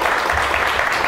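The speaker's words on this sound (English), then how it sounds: "Let's give him a round of applause." An audience in a lecture hall claps together in a dense, steady burst of applause that fills the short moment at moderate loudness.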